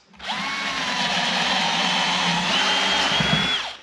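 A power drill spins up and whines at a steady high pitch for a few seconds while used with a Kreg 720PRO pocket hole jig, close and alone, then winds down.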